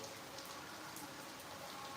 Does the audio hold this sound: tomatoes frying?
no